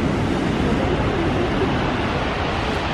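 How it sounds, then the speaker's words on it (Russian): Sea waves surge and break on the shore at Sochi on a cold winter day, a loud, continuous roar of surf with wind noise filling the whole stretch and no voices. "Мы дошли до моря. Смотрите, какие волны."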